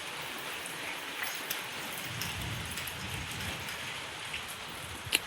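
Steady rain falls outdoors in a farming village, a continuous even hiss of drops with a few sharper nearby splashes and no one talking.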